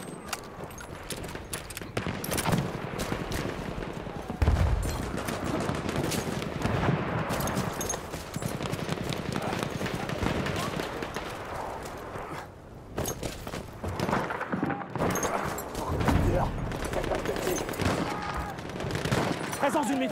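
Rapid machine gun fire and other gunfire in a First World War shooter game at Verdun, dense and continuous bursts throughout, loud and close.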